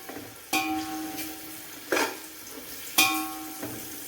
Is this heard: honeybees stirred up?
no